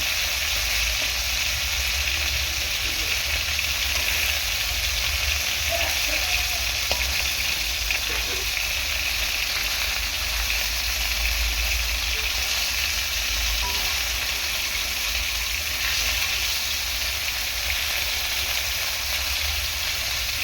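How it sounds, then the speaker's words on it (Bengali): Pieces of bele fish fry in hot oil, a dense, constant sizzle and hiss holding at an even level for the whole stretch with no voices. "শেষে যে কয়েকটা মাছ দিয়েছিলাম এই কটাও ভালো করে ভেজে নেব"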